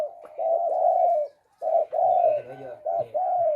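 A spotted dove used as a decoy coos in soft, rhythmic phrases of mellow, hollow notes, close and clear, with short pauses between phrases.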